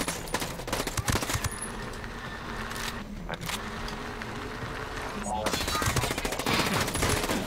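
Rapid automatic fire from an attack drone in Ghost Recon Breakpoint, loud continuous bursts of machine-gun shots hammering close by, with a player's voice talking over the barrage.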